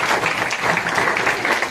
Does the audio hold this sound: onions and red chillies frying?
no